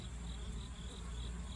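Bees buzzing steadily around a hive entrance on a September day, a soft continuous insect hum with no talk.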